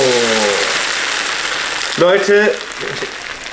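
Oil poured over Japanese noodles with soy sauce gives a brief sizzle, with people talking over it.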